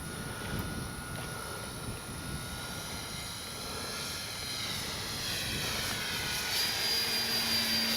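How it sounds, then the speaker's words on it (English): E-flite SNJ-5 Texan RC airplane flying with an odd-sounding propeller, a continuous distant motor drone and whine heard outdoors, holding steady and slowly growing slightly louder as it approaches. "That prop sounds funny to me."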